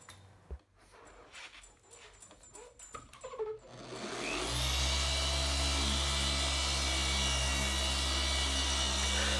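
A dual action polisher with a 15 mm throw and a soft polishing pad, set between its third and fourth speed, starts partway through after quiet handling noises, then runs as a loud, steady whirring drone.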